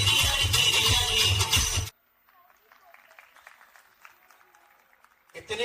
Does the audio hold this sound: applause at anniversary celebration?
yes